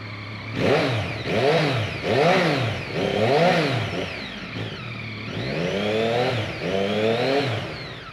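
A 2014 Yamaha MT-09 with an Akrapovic exhaust, baffle fitted, barks through a series of sharp throttle blips, five rising and falling revs, then two longer, smoother revs, loud and close with the engine idling between them.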